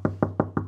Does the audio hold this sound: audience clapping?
no